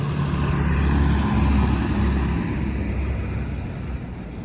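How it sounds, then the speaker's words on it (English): Cars passing on a road, a steady broad rumble of traffic and tire noise that swells and then eases slightly as the vehicles go by, with no talk. "I'm gonna let these cars go by real quick"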